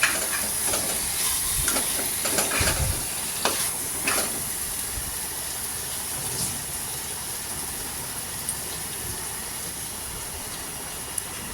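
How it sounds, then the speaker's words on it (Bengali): Chicken and vegetables with salt being stirred in a pan for a Kolkata-style street chicken soup, a steady sizzling hiss with scraping stirs and a few sharper clanks, continuous and close without speech. "নুন দিয়ে এবার একটু নাড়াচাড়া করে নেব।"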